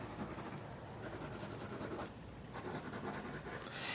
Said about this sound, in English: we're going to cut these pieces off